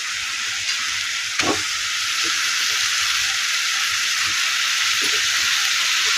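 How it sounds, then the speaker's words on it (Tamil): Washed bone-in chicken pieces hit a hot frying pan for pepper chicken with spices. A loud, steady sizzle fills the clip, broken by a few soft clunks of stirring. "இப்போ நம்ம அலசி வச்ச சிக்கனை சேர்த்துக்கலாம்"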